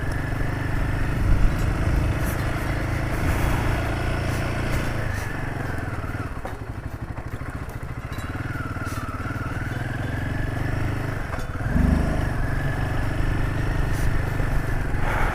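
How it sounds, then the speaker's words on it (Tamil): A motorcycle rides a mountain road in Ladakh, its engine droning steadily up close with rising and falling revs, dipping briefly midway before picking up again. "சரி, ஓகே, வண்டி ஓட்ட போகிறேன்."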